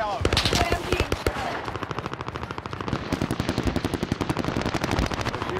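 Automatic gunfire in Warzone Zombies, a video game: a rapid, loud, steady stream of shots running almost the whole time, with a voice talking over the start.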